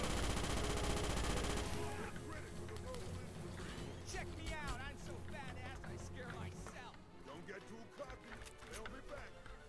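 Rapid bursts of automatic gunfire crackle in the 2005 Starship Troopers video game, opening with a loud dense roar, then scattered shots and clattering volleys over background game sounds.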